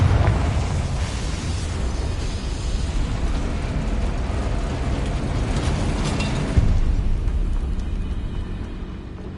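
A Confringo spell explodes in the video game Hogwarts Legacy, giving a loud, sustained, rumbling blast that roars on for several seconds and then slowly fades.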